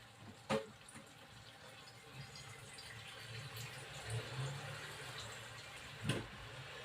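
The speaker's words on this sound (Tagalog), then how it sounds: "ngayon lalagyan ko ng tubig. Yung linagay ko is yung hot water para mas madaling kumulo." Hot water pours into a stir-fry pan, a steady low wash of liquid running for several seconds with a couple of sharp clinks, fairly quiet and alone without talk.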